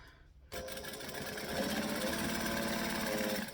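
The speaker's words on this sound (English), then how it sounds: "we're going to stitch with a 1/4 inch seam allowance" A sewing machine runs steadily as it stitches a bag seam with a quarter-inch allowance at a 2.5 stitch length, starting abruptly after a quiet moment and then holding a loud, even mechanical whir.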